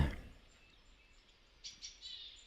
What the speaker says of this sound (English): You'll hear some gentle breeze, some birds.